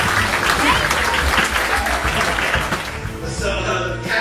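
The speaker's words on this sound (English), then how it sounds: "Give us a applause." A live audience at a stage show bursts into dense, loud applause that fills about three seconds, then fades as a few stray claps and voices rise at the end.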